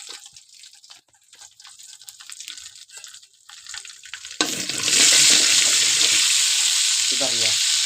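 Mustard seeds going into a generous pour of hot oil for a raw mango jaggery pachadi, a sudden loud burst of sizzling spitting that stays strong and steady after a quieter stretch of light kitchen clatter.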